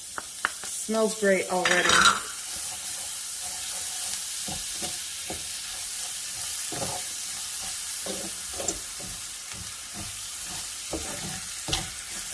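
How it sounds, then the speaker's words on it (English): Two tablespoons of unsalted butter melting in a pan with garlic, for chipotle pepper rice: a steady, close sizzle runs throughout with frequent light scrapes of stirring, after a brief spoken remark at the start. "Now I'm going in with 2 tablespoons of unsalted butter and melt that down into the pan"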